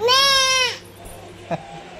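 A voice imitates a goat with a single wavering bleat, close and clear, followed by quiet.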